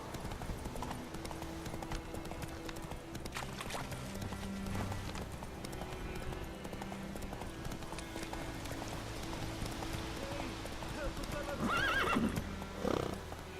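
Horse hooves clip-clop steadily while galloping in The Witcher 3: Wild Hunt, with a neigh and louder hoof bursts toward the end, over light rain-like ambience and occasional game character voices.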